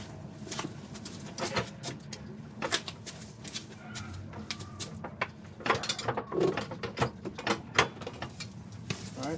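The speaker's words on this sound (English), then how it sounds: "I'm going to jack up the transmission so I can get the mounts in" A jack raises the transmission of a 2004 Honda Pilot during a mount replacement, giving a series of close ratcheting clicks and metallic clanks in an irregular rhythm, with someone speaking briefly.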